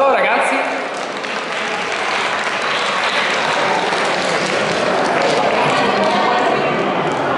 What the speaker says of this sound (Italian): facciamogli un grande applauso, ragazzi